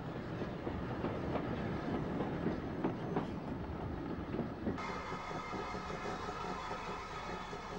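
A train on the Cambrian main line in 1962 rumbles past steadily, a dense continuous roar of wheels and running gear with rhythmic clatter, fairly close and loud throughout, with no voices.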